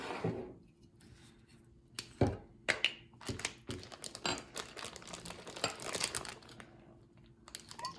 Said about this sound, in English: add some of my olive oil to my plastic bag and mix it all up